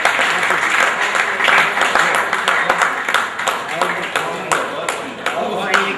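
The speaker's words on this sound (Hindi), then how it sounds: "आदरणीय दुबे जी के लिए बस जोरदार ताली दें" An audience applauds at a Hindi-language literary gathering, dense sustained clapping that rises and falls in waves for several seconds and stays loud throughout.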